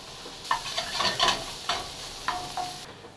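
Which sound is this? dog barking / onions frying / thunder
onions frying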